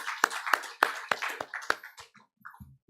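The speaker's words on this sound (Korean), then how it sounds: "하나님께 영광의 박수 올려드리겠습니다" Several distinct, sharp hand claps from a church congregation at a Wednesday worship service at Sangil Church, loud and close, spaced roughly evenly before tapering off into a few faint scattered sounds.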